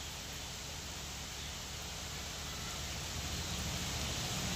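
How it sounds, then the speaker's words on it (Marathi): Light rain falling outdoors, a soft, even, continuous hiss of drops with no distinct rhythm, steady and fairly faint throughout with no voices. "चालू झालाय पाऊस. एवढा मोठा नाही आज, पण हाय पाऊस चालू चांगला."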